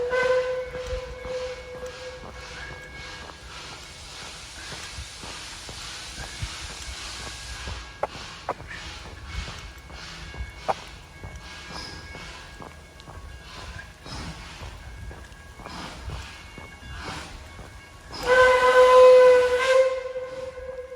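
Puffing Billy steam train in the Dandenong Ranges forest, faint distant puffing and hiss that builds to a loud, sustained whistle blast near the end, heard across open air.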